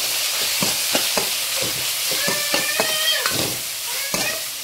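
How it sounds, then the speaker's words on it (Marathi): Red chili powder and turmeric sauté in a pan with onion, garlic and coconut chutney, with a spatula clacking against the metal in quick, irregular strokes over a constant, loud sizzle. "हे लाल तिखट, हळद आणि इथं छान असं परतून घ्यायचं"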